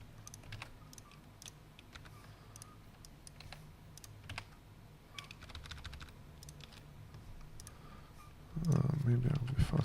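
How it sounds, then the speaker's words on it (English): Rapid, irregular clicking of keys on a computer keyboard, typed at close range while entering poker hand data, with faint background sounds and a louder low rumble near the end. "Maybe I'll be faster just by typing."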